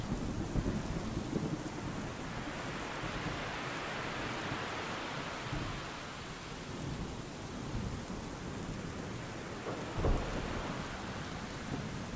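Heavy rain pours steadily through a thunderstorm, a dense continuous hiss with low rumbles of thunder underneath and one brief sharper crack near the end.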